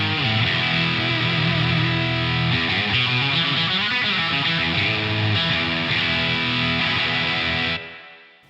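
Electric guitar played through a Boss DS-1 distortion pedal, producing a loud, dense, sustained distorted chord that shifts in pitch and then cuts off abruptly near the end, with no talking.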